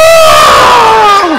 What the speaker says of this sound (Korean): 함성을 질러야지